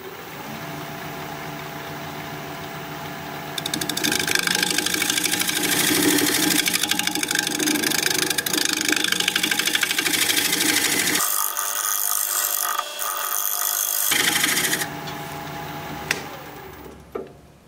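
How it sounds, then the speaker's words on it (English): A pear shape being shear-scraped on a wood lathe, the spinning workpiece giving a steady close whirring drone with gritty scraping that pauses briefly before resuming. "I like to do it by shear scraping"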